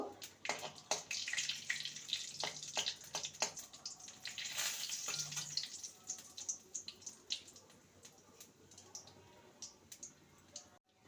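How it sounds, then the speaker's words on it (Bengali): A whole dried red chili and half a spoon of nigella seeds fry in hot mustard oil, giving faint, irregular crackles and pops over a low sizzle, with sharp bursts scattered across the clip. "দিয়ে দেবো একটা গোটা শুকনো লঙ্কা আর হাফ স্পুন কালো জিরে ফোড়নটাকে কয়েক সেকেন্ড ভেজে নেব"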